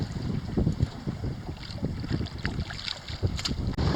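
Strong north-northwest wind buffets a boat near Delacroix, Louisiana, roaring steadily in gusts across the microphone with low rumbling rushes throughout.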